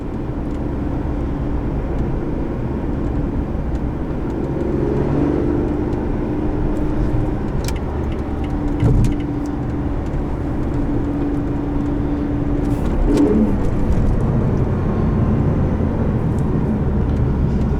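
A 2011 Lotus Evora on the move, its engine intake droning loud and steady from just behind the cabin with windows down, a deep sustained induction roar and road rumble rising slightly in places.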